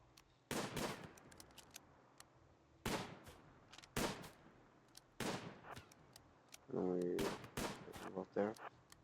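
Gunfire aimed at a colony in the video game Rimworld: four separated sharp shots with ringing tails, spaced a few seconds apart, followed by a short rattling burst near the end, fairly faint overall.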